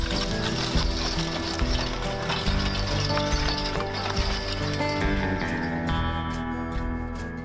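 Mules pulling a wagon in Arkansas, heard as a steady clatter of hooves mixed with rattling and creaking from the wagon, loud and continuous across a dense mechanical background.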